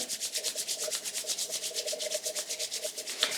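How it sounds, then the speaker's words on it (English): Hands rubbed together with skincare oil, a rapid, steady back-and-forth swishing with a regular rhythm, close and fairly loud, with no voices. "Rub your hands together."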